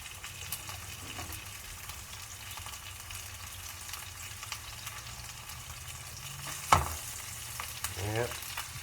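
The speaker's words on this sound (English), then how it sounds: "our turkey breast starting to brown up pretty good" Turkey breast fries in a hot pan, browning with a low, steady sizzle running throughout, a brief clatter of cookware near the end.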